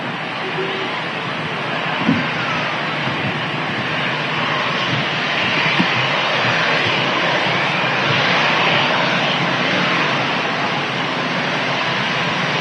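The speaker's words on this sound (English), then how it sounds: "Uniform whiskey on the reg there of the EasyJet A320 Airbus airliner." An EasyJet Airbus A320 airliner at Manchester Airport, its engines roaring loudly and steadily throughout with a broad, sustained jet rumble and no talking.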